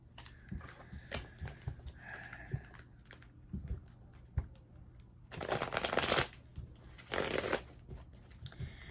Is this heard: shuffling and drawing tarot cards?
yes